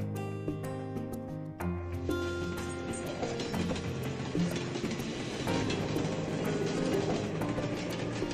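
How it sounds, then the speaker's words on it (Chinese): A very long coal freight train made of two trains coupled end to end rolls along the rails in Shanxi, with steady rhythmic clickety-clack of wheels over rail joints and a rumbling, clanking wagon noise that grows fuller and closer. "为保证效率，人们将2列这么长的车首尾相连，拼接成运煤专列。"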